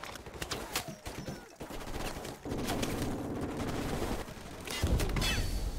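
Rapid gunfire from a Call of Duty: Modern Warfare Remastered match, bursts of shots and automatic fire rattling steadily throughout with brief lulls, loud and close.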